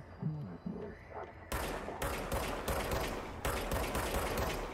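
Gunfire in the video game Control: after soft, muffled sounds at the start, dense bursts of rapid shots come in abruptly and keep going, loud and sustained over a constant background.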